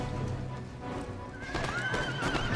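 Cavalry horses neighing, with hooves clattering, in an Empire Total War battle: a long whinny rises over a busy background of battle noise, fairly close and loud.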